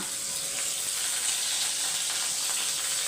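Steady, loud sizzling of potatoes frying in hot oil, a dense crackling hiss without pause.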